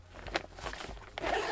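A bag zipper is pulled open in a few quick rasping strokes, close by, with a louder zip near the end.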